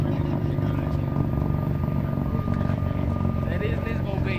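A Nissan 350Z NISMO's engine and exhaust drone loudly and steadily nearby, a deep rumbling tone under people talking over it.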